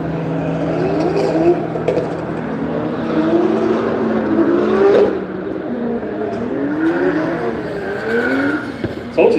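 A Mazda MX-5 drifts around a circuit at a Japanese car show at Silverstone, its engine revving and tyres squealing in long sweeping bursts, loud and close, with more cars running in the background.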